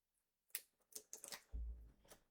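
Card stock being cut on a paper trimmer for handmade Stampin' Up! cards: a few sharp clicks and scrapes, then a low sliding rumble as the blade passes, close and clear with no talking.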